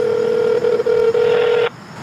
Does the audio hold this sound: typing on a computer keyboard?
no